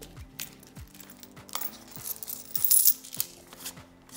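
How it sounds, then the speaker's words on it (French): Coins drop and clink into a paper budget envelope, several light metallic taps and jingles spaced through the clip with some paper crinkling, close and fairly quiet. "s'il n'y a pas une pièce qui est tombée juste dans l'enveloppe alimentation"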